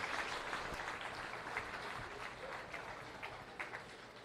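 Faint, dense crowd applause at a 4-H starter calf show in Adams County, a steady wash of distant clapping that fades slightly, with no talk.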